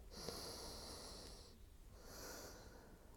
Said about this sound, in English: Taking one final round of breath here.